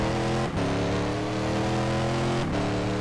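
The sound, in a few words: race car engine revving in a racing video game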